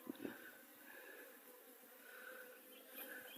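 Bees buzz around an apiary in April, a soft, steady hum of many insects with a few louder passes drifting near the microphone, and no voices.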